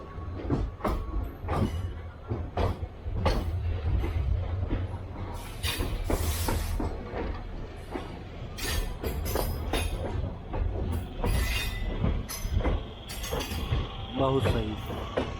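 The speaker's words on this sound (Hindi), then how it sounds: "प्लेटफॉर्म नंबर 8 पर हमारी ट्रेन जो है लग रही है, नर्मदा एक्सप्रेस" The Narmada Express pulls into platform 8 at an Indian railway station, with steady rolling rumble, rhythmic wheel clatter and brake hiss throughout while someone talks over it.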